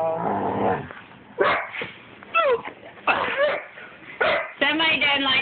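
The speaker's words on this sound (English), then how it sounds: "This is nothing but a bunch of puppy chaos." Several puppies bark, yip and growl in short overlapping bursts at close range, with a person talking over the noisy scuffle.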